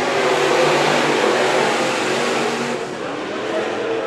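Race cars at Antioch Speedway during a New Year's heat race make a steady, dense engine roar that fades slightly after a few seconds and then holds on.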